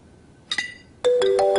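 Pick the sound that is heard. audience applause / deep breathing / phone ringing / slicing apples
phone ringing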